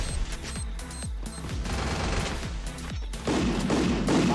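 MAG7 shotgun firing in the Free Fire video game, a rapid run of punchy shots in quick succession, loud and close, with a denser burst of gunfire toward the end.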